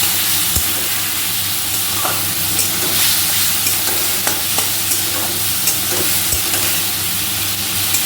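Spice paste fries with potatoes and tomatoes in a pan for a thin fish curry, loud and close, with a constant sizzle broken by sharp scraping stirs.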